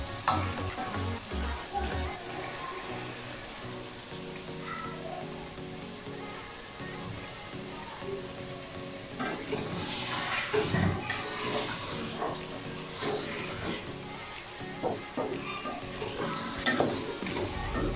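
Chicken for Pakistani-style biryani fries in a pan while being stirred and scraped, with a continuous close sizzle and occasional louder stirring bursts over about eighteen seconds.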